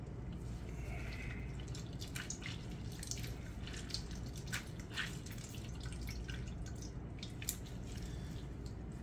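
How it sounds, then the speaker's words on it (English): Salted sliced cucumbers are squeezed by hand so their liquid drips and splashes into a bowl, a scattered run of soft wet drips and trickles over a low steady room hum, close and quiet. "Then we're going to squeeze out all the liquid"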